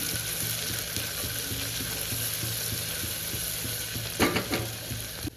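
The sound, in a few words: cumin and mustard seeds frying in oil, stirred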